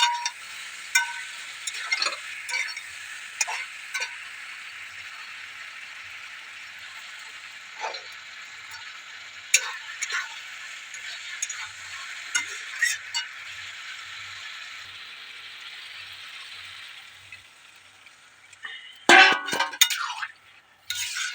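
Cauliflower frying in a pan gives a steady bright sizzle, broken by scattered clinks and scrapes of a utensil stirring it, with a louder clatter near the end; no speech.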